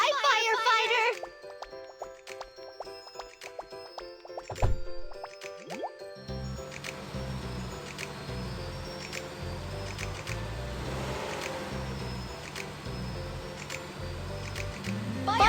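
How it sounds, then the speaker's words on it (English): Water pours and drips into a toy fire truck's tank with wet squishing and plopping, mixed with toy tones and background music, fairly close and continuous after a brief pause. "Let's fill the fire truck with water."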